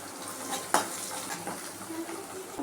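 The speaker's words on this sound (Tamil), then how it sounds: "மல்லி பச்சை மிளகா பெருஞ்சீரகம் ஜீரகம் எல்லாத்தையும் போட்டு எண்ணெய் வதக்கிக்கலாம்" Crushed coriander, green chili, fennel and cumin frying in oil for onion parotta, a steady close sizzle with a few scraping stirs and one sharp utensil knock near the start.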